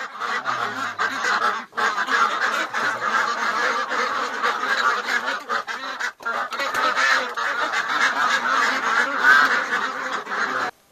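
A loud flock of domestic ducks gives continuous, overlapping honking quacks close by for the whole stretch, with only a couple of brief pauses and no voices.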